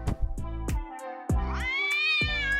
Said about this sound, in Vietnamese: có một chú mèo tên là Garfield